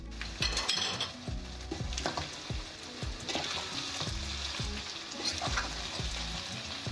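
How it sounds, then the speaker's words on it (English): Basil pesto with chili paste sizzling in a pan for chicken mac and cheese, a steady fry broken by regular soft knocks and scrapes of a stirring utensil. "I'm also going to add in the basil pesto as well. Just let it fry a little bit in this."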